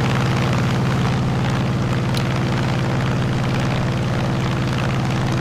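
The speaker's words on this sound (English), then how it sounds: "once you're going good enough speed, to apply full throttle, put the landing gear up" An F6F Hellcat in Microsoft Flight Simulator 2020 roars at full throttle during takeoff, a loud, steady, droning radial-engine and propeller tone throughout, with no voices.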